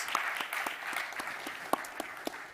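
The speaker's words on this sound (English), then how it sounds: "Big round of applause for our panelists" Audience applause for panelists at a forum on India-UAE relations, with moderately paced clapping and several sharp, distinct claps standing out near the microphone.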